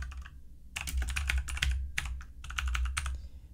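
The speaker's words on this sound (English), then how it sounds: "I'm going to type git merge tool." Fingers tap out a command on a computer keyboard in quick clustered bursts of close, crisp clicks with short pauses between words.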